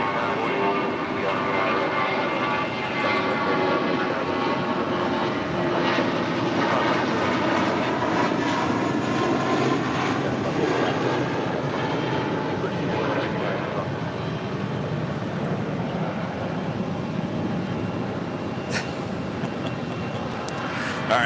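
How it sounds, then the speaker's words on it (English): A DHL Polar Air Cargo Boeing 777 taxis at LAX, its jet engines holding a steady, loud roar and whine throughout, with faint talk in the background. "the DHL Polar Air Cargo 777 going short, making that turn onto Alpha 8"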